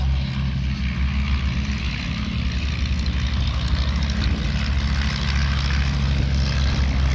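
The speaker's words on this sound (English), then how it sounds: "See that the tail comes up, which gives the pilot a better view forward for the takeoff." A propeller airplane takes off at Midland's Air Festival 2024, giving a loud, steady engine and propeller drone that holds throughout without any pause.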